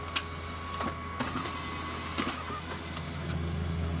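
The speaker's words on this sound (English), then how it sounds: "You can see we made a sample copy here." An HP printer runs a blank sample copy, giving a steady mechanical hum with scattered clicks and whirs at close range and no voices.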